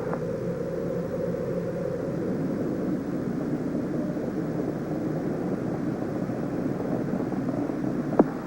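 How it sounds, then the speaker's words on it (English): Space Shuttle Challenger launch, heard as a low, steady, distant rumble that holds evenly throughout with a faint roaring texture and no talk over it. "Space Shuttle mission, and it has cleared the tower."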